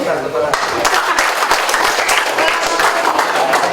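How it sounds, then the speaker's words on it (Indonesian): An outdoor student group at an army battalion outing breaks into loud, continuous clapping and crowd noise, a dense wash of hands close by with voices mixed in throughout. "karena semua udah tepuk tangan"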